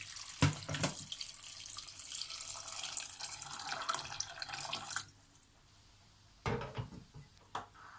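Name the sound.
water poured into a cooking pot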